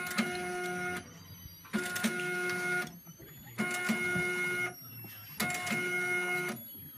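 A Zebra ZE500 label printer prints labels for SD cards in four even bursts of about a second each, a whirring mechanical buzz with clicking, separated by short quiet pauses. It sounds close and moderately quiet.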